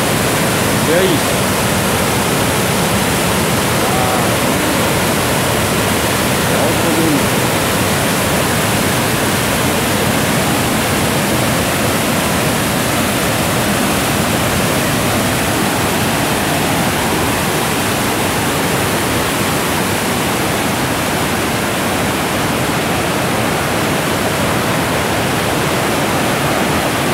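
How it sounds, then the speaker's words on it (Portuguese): Cachoeira da Chave waterfall in Votorantim, a heavy cascade of fast water giving a loud, unbroken broadband roar that holds steady for the full length, close by and alone. "Caramba, que velocidade de água vem aqui."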